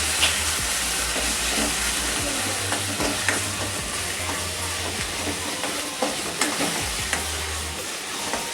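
Onion paste frying in a pan for a fish dish, a loud continuous sizzle with repeated scraping stirs from a spoon, close and alone.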